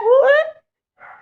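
A voice imitates a barking dog, one sharp rising yelp followed after a short pause by a fainter, softer bark.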